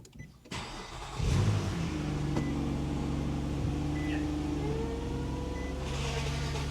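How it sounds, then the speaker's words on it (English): A 2012 Nissan Altima SR V6 starts up, and the transmission draws in fluid right after, a steady low idle hum with a faint whirring tone running under it for several seconds. "I'm assuming that was the transmission sucking up fluid"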